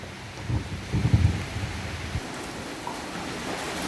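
Rain falls outside a church entrance as a soft, steady hiss, with a few low rumbling swells early on and no talking.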